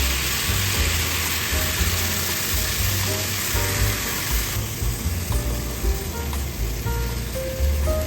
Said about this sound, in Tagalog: Sunod naman natin yung ating 1 kilong pork giniling. Maglagay tayo ng asin. Tapos haluin lang natin ito.